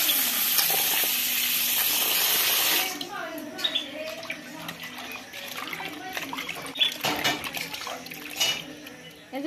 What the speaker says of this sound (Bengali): এবার মাছগুলো ধুয়ে নেবো ভালো করে